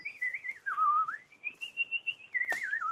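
A person whistles a wavering, sliding melody with pitch dips and rises, clear and close, imitating someone's whistle.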